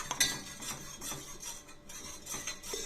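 A spoon scraping and clinking around a pot of thickening health mix porridge, steady repeated stirring strokes close up, no voices.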